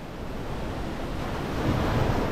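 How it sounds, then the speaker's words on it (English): Steady rush of ocean waves breaking on a Punta Cana beach, broad and continuous with wind noise across the microphone, no voices. "Look at the ocean."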